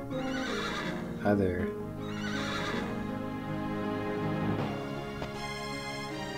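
Horse neighing and whinnying in the video game Wild Arms, a loud bright whinny over game music with a voice speaking briefly on top.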